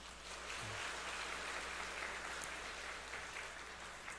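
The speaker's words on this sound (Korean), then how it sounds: "우리 다시 한번 박수 쳐주시죠" A church congregation applauds during an all-generations Sunday worship service, a steady, soft wash of clapping that carries evenly through the whole stretch at a fairly distant level.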